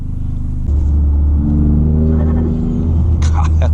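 A 2023 Toyota GR Corolla engine rumbles loudly from inside the car, rising as it blips for an automatic rev-matched downshift with the clutch pressed, followed by a brief clatter near the end.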